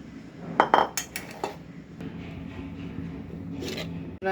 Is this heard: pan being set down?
yes